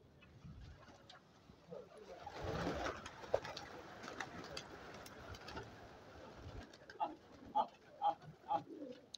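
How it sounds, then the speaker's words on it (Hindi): Black pigeons coo in soft repeated phrases near the end, after a stretch of louder mixed bird noise and rustling in a loft. "देख सकते हैं दोस्त हमारे काले कबूतर"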